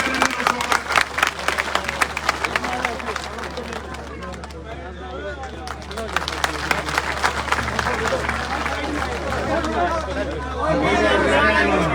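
Applause and crowd chatter at a Yadav community election gathering in Shimla welcoming a candidate: many hands clap unevenly amid loud babble and a continuous low hum, with voices talking over the clapping throughout.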